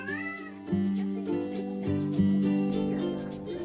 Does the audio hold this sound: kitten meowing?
yes